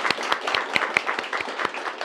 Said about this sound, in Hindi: अपने लिए ताली.